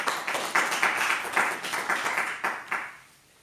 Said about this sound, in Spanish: este aplauso es para mi Padre